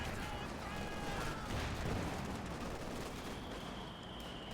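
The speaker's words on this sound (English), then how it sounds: "Great frag bombs indeed." Frag bomb explosions and mortar fire in a Company of Heroes 2 battle, a dense continuous rumble of blasts and crackling gunfire, moderately loud and sustained throughout.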